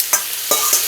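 Sautéed vegetables for a gnocchi pan are stirred in a frying pan, giving three short scraping stirs over a steady, close sizzle of frying.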